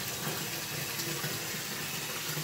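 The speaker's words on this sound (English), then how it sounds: "So the bathtub's already got water in it. I'm going to add a little bit more water in it" Tap water pours steadily into a bathtub that already holds water, a continuous close splashing rush without pause and no talk.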